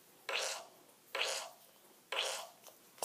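Three separate puffing fart-like bursts in a row, each short and fairly loud against a quiet background.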